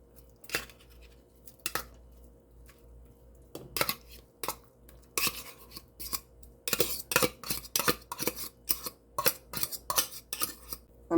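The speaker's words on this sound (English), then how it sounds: "Tuna goes in." Canned tuna is scraped and knocked into a no-bake tuna noodle casserole as a utensil clicks and clatters against the can and dish, sparse at first, then quickening into a dense run of sharp taps.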